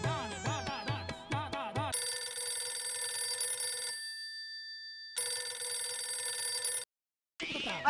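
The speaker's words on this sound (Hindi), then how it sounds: "रिंग बज रहा है।" A telephone rings in repeated electronic bursts, switching between a warbling tone and a steady buzzing ring, with brief silent gaps between.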